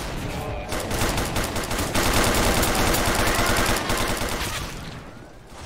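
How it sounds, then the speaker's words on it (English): Rapid automatic gunfire bursts loudly in a multiplayer video game, dense chattering volleys running almost without break for several seconds before tapering off near the end. "Jackie, shoot him."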